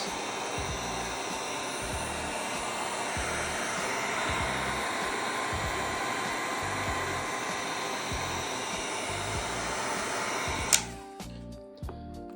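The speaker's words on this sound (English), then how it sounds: "take your heat gun or hairdryer" A hair dryer or heat gun blows with a steady, loud broadband whoosh for about eleven seconds, then cuts off abruptly, leaving a few small clicks and handling noises.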